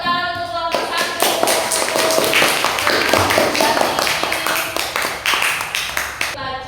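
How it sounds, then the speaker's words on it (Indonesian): Students in a classroom clap for a group after its poster presentation, a lively round of close, uneven hand claps that fades at the end as an adult voice briefly speaks. "boleh tepuk tangan untuk kelompok 1"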